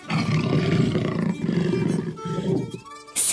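A lion roars in long, deep, rumbling bursts, loud and close, ending with a brief sharp noise.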